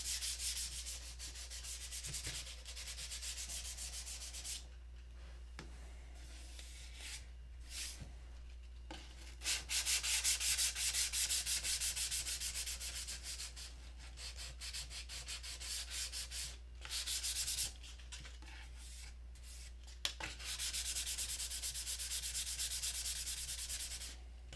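Fine-grit sandpaper, from 500 up to 2,000 grit, rubbed by hand in repeated strokes, a quiet rhythmic scratching broken by short pauses over a steady low hum, with no talking.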